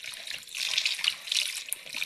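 Tap water runs steadily into a bowl at a kitchen sink for rinsing grapes, a close, continuous splashing stream with no talking.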